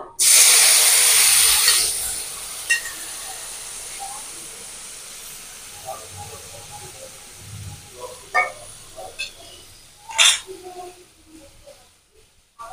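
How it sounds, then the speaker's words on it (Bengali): Spice paste hits a hot pan with cardamom for a chhana kofta curry, bursting into a loud hissing sizzle for about two seconds that fades to a quiet crackle with occasional clinks. "এবারে ওই পেস্টটা করে রেখেছিলাম এটা ঢেলে দেবো।"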